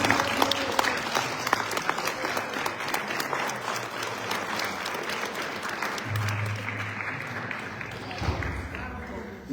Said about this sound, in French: je vous demande d'applaudir comme il se doit le camarade Gilles Poux